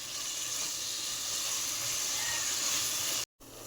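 Tomatoes and onions fry in a pan for mutton biryani with a steady, even hiss and sizzle. It runs almost unbroken at moderate volume, with one brief dropout near the end, and no one speaks.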